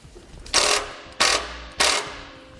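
Three evenly spaced, loud bursts of a ratchet clicking as a number 12 self-tapping screw is driven through a relay and ground stud during an air compressor install on a 2014 Chevrolet Silverado 2500.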